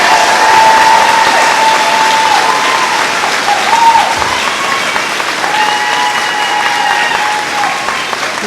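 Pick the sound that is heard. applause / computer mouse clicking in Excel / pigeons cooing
applause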